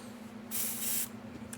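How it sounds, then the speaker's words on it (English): A paint-filled airbrush gives a short test burst, a close, loud hiss lasting about half a second under a low steady hum from the room. "Test your airbrush."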